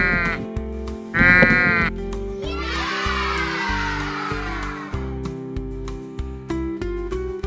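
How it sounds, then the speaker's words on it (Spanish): A sheep bleats in short and drawn-out cries, loud and close, over an upbeat rhythmic children's music backing track. "Una oveja. ¿Cómo le hace la oveja?"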